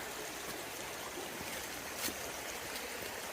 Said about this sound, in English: Get a better shot of that waterfall, a little runoff, I should say.